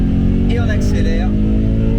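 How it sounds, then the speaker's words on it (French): A supercharged BMW M3 E92 accelerates, heard from inside the cabin. A loud, steady engine drone fills the clip, with a voice talking over it. "Et on accélère."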